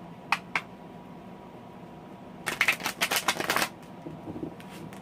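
Tarot of Dreams cards by Cairo Marchetti riffle in a quiet room: two quick flicks, then a longer burst of rapid papery shuffling, followed by a few faint soft taps.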